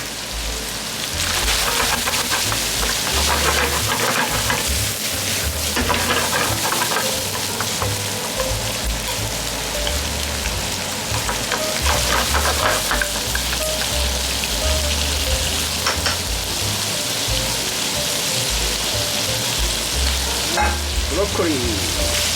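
Vegetables, bamboo shoots, shiitake and lotus roots stir-fry in a hot pan with a dense, steady sizzle and occasional stirring clatter, close and continuous throughout.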